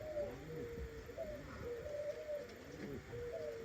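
Racer pigeon chick cooing in repeated soft, low coos across the whole stretch, close by and fairly quiet, with no talking.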